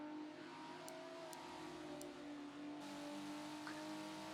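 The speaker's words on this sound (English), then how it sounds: "Here we see the Dawson Racing Pro-Am car, and the Transformer white Transformer car." Race cars in a sim racing video game at Road America drone steadily, engine tones holding and shifting as they drive, with a few faint high clicks on top and no voices.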